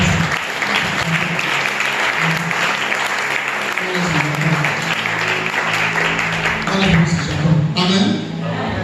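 A church congregation at a worship service claps loudly and continuously, with shouts and voices mixed into the sustained applause.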